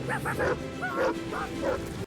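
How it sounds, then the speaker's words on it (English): A cartoon dog's barks from the animated series The Dragon Prince, several short yipping woofs in quick succession, close and fairly loud, with no talking. "love the Ellis barks too"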